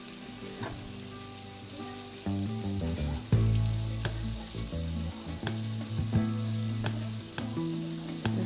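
Moong dal ghati snack pieces fry in a pan with a loud, continuous bubbling sizzle, close and clear, broken by scattered crackles and pops throughout.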